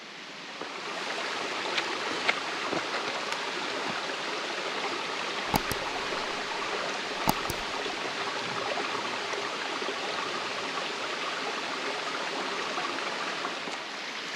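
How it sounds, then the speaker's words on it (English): Continuous rushing of shallow creek water flowing over rocks on the Flat Creek Loop, steady and fairly close, with a couple of faint clicks. "A lot of water flowing over here, but nothing deep"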